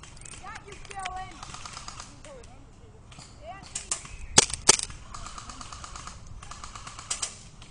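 Airsoft guns firing during an outdoor skirmish game, a few sharp snapping shots clustered near the middle plus scattered lighter clicks, heard over people talking and moving about.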